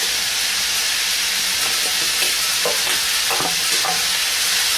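Carrots sauté in a pan with pork and chicken, a strong continuous sizzle punctuated by scraping stirs of a utensil, with no talking.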